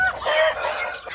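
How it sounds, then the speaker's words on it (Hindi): Desi hens clucking up close, a short burst of busy, nasal fowl calls lasting about a second, loud and alone with no talk. "और ये देसी मुर्गियाँ जो हैं ये बिल्कुल अंडों पे थी।"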